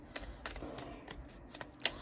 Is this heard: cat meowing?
no